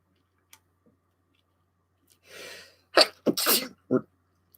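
A person sneezes nearby, a sharp wind-up breath followed by a few abrupt explosive bursts in quick succession, close and fairly loud against a quiet room.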